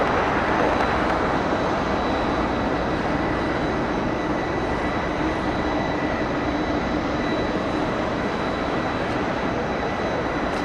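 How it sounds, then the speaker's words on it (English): A KLM airliner coming in to land at Los Angeles airport, a steady broadband jet roar that stays loud and constant throughout, with no talking. "KLM's going to be landing very soon"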